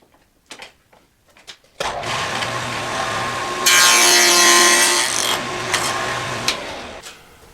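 Two clamped wood pieces being cut on a box joint jig, a few light knocks followed by a sustained close whir and rasp of the cut that intensifies midway before winding down.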